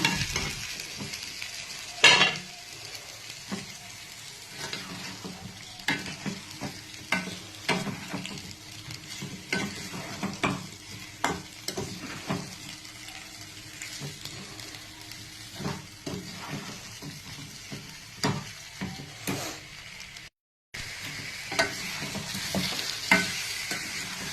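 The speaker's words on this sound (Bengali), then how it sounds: "আলুগুলোকে একটু নাড়তে থাকি।" Potatoes stirred and fried in a spiced masala in a pan, a steady sizzle broken by repeated scraping strokes of a spoon, close and fairly loud, with a brief gap near the end and no talking.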